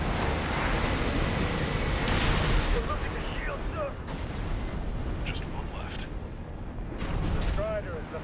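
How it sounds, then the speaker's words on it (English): Explosion rumble and heavy booming fill the destruction of a sub-generator in Armored Core on PS5, a dense roaring blast that lingers, with a voice speaking over it. "Kaboom. Sub-generator's destroyed."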